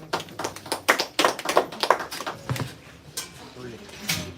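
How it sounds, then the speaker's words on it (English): Audience members at a Brooklyn reading night clap for themselves, a loose burst of close hand claps, uneven and fading, with voices calling out between them. "Clap it up for yourselves"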